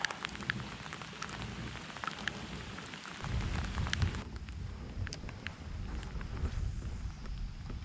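Rain patters on the Grasse River in New York while fishing for smallmouth, a soft, steady hiss of drops that swells and grows denser partway through, faint and distant with no talk.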